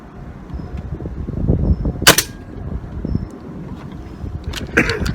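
An air rifle with a magazine is cocked and fired, giving one sharp, loud crack near the middle and a few quicker mechanical snaps and clicks near the end over low background rumble.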